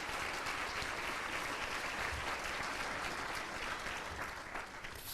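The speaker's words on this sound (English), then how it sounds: "A huge round of applause for everybody." An audience at a Delaware Teacher of the Year ceremony gives sustained applause, a dense, even wash of clapping from many hands throughout, easing slightly toward the end.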